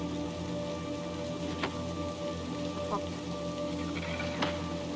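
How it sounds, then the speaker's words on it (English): Steady rain pours across the scene in the game Little Nightmares 2, a dense even hiss with a few louder drip impacts standing out, continuous throughout with no talking. "Why is it still raining"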